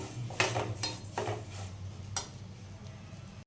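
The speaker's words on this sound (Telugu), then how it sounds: "అదే సేమియా వేసుకున్నాం. ఇది కొంచెం బ్రౌన్ కలర్ వచ్చేంత వరకు వేయించుకుందాం." Vermicelli roasting dry in a pan, stirred with a spoon: a few quick metallic scrapes and clinks against the pan over a faint sizzle, close and brief.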